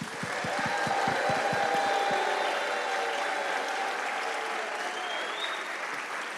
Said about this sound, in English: So whistle, clap, be as loud as possible, because we want to win this contest.